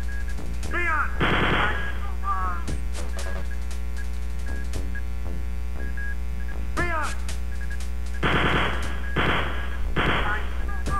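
Rapid chain gun fire in the video game Wolfenstein 3D, with bursts of repeated shots over looping synthesized game music, plus enemy cries and other game effects.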